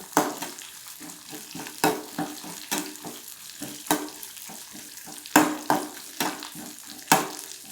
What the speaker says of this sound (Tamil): அடுத்தது நான் பச்சை மிளகா போடுறேங்க